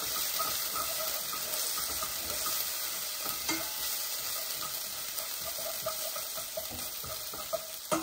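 Garlic, ginger chili paste and the hard white parts of green onion sizzle steadily in a hot pan for ramen-style Maggi noodles, with utensil stirring and scraping and a few sharper clinks near the end.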